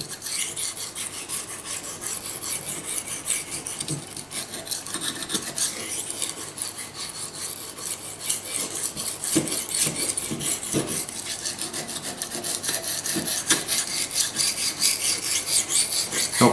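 Steel blade rasped on an Ariégeoise Pyrenees whetstone, a continuous scraping and rubbing with repeated strokes, close and fairly loud, growing slightly stronger toward the end, with no talk.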